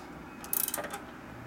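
A ratchet clicks in a quick short burst while tightening a bolt on a 1941 Harley-Davidson 74ci Knucklehead bobber, the clatter faint and close in a quiet workshop.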